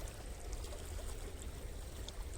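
Tubewell water flowing out into a farm field for irrigation, a steady rushing trickle with continuous splashing, fairly faint and even throughout.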